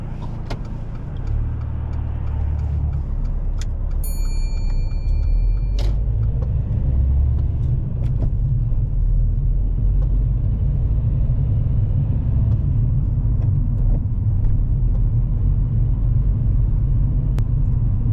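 Car driving along a road during a mock driving test, a steady low engine and road rumble throughout, close and continuous, with a few faint clicks and a brief tone over it.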